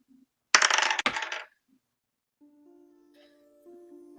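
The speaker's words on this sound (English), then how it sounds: "Just gonna move something so I can actually roll my dice here." Dice roll across a tabletop during a Dungeons & Dragons session: one close, bright clattering burst lasting about a second, with a sharp knock partway through, then quiet with a faint low hum and no talking.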